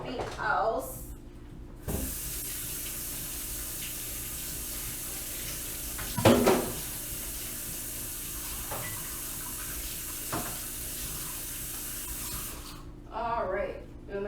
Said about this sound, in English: I'm gonna wash my hands now before I touch anything else.